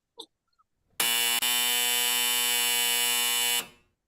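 A loud, harsh buzzer blares for about two and a half seconds with a brief hiccup near the start, preceded by a quick soft noise.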